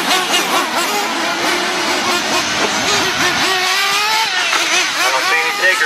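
Nitro late model race car engines roar and rev loudly around a dirt oval during a 100-lap feature, with several cars overlapping in continuous high-pitched engine noise under an announcer's voice.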